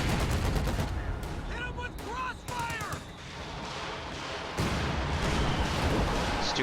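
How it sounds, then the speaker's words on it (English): Stuka dive bomber firing in a World War II strategy game: a dense stream of rapid gunfire bursts with sharp impacts and a rising whine, loud and continuous over a rumbling battle background. "Stuka firing."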